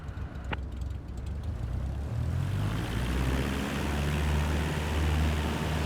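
A propeller aircraft engine in Microsoft Flight Simulator 2024 swells from a low idle to a loud, steady full-power takeoff roar that keeps building over several seconds, with no talking.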